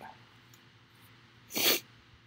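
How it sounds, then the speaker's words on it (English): A single quick, sharp sniff through the nose breaks an otherwise quiet moment, close and brief. "Sorry, I got the sniffles."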